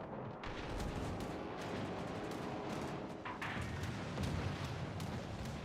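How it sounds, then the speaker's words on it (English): Secondary naval guns fire repeatedly in a warship video game, a dense stream of booming shots and rumbling blasts layered over constant battle noise. "Secondary guns also start firing now."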